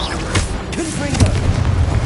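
A Confringo fire spell explodes in Hogwarts Legacy, a booming blast with crackling burst over steady combat ambience, loud and close, lasting about two seconds.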